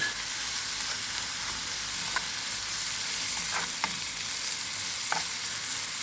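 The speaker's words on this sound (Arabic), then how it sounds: "تحطيهم في ضربه كيما هكذا وتخليها تتقلى" Tomato frying in a pan with salt, black pepper and cumin, a steady soft sizzle with a few faint stirring scrapes, no voices.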